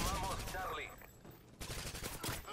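Rapid turret gunfire in the video game Modern Warfare 2, dense crackling bursts that fade briefly and then resume, fairly close and loud.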